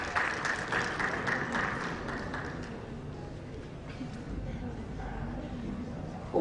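Audience applause at a healthcare investment summit in Rajasthan, a dense steady clapping from a seated crowd that fades slightly toward the end, with faint murmuring underneath.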